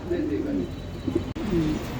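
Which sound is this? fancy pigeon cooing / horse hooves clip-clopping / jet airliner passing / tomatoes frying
fancy pigeon cooing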